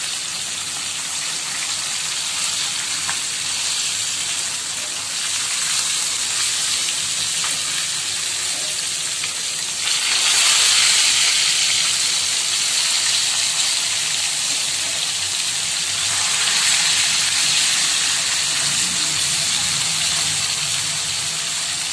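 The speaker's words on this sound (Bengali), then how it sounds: "মাছটা কিন্তু আমি ভুনা করবো না, লাল লাল করে ফ্রাই করবো" Fish frying red and crisp in hot oil for a bhuna khichuri meal, a steady dense sizzle throughout that swells louder around the middle and again near the end, with no talking.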